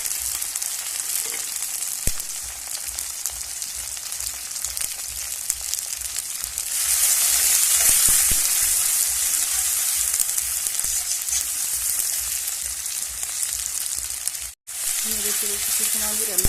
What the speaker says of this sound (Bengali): নেড়ে চেড়ে কিছু সময় আমি রান্নাটা করে নিচ্ছি।